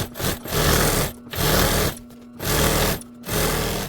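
A sewing machine back-stitches fabric for a pet bed in four short rhythmic whirring bursts with brief pauses between them, close and loud.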